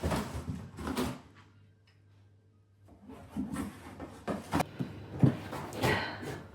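A dog ripping into a cardboard box: bursts of scraping, rustling and tearing come in uneven clusters, with a short quiet pause before the shredding picks up again, close and fairly soft.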